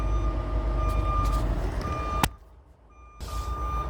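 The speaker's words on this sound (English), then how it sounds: "Hear this guy beeping over here, backing up." A truck's reversing beeper sounds over a rumbling engine, then the engine noise drops briefly before returning; fairly close.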